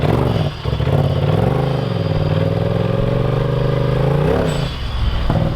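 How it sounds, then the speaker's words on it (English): A Polaris RZR Turbo S UTV engine with aftermarket exhaust idles and revs with a rough, throbbing exhaust note, ending in a brief sharp hiss from the turbo blow-off valve. "There's the blow-off valve with the exhaust on there."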